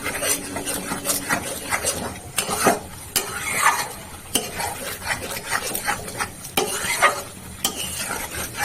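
Cauliflower sautéing in a pan for a royal-style fulkopi dish with salt and a little sugar, giving a steady sizzle broken by repeated scraping stirs and light utensil clatter, close and moderately loud with no talking.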